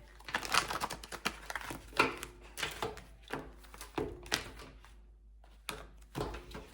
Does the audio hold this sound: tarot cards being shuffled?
yes